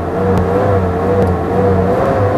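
A 2004 Kia Sportage 4x4 with automatic transmission sits in neutral, its engine giving a loud, steady whirring hum with slight swells of throttle.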